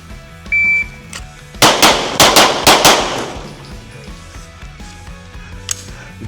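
Rapid pistol fire during a standards drill transitioning across three individual targets: a burst of five or six sharp, loud shots in quick succession, echoing briefly, followed by quieter clinks and range ambience.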